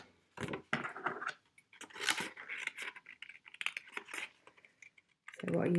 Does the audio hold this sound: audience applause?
no